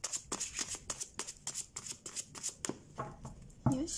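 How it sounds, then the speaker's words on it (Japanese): Rapid riffling of Lenormand cards being shuffled, crisp repeated bursts close by, ending with a soft thump and a brief clatter. "さあシャッフルしましょう"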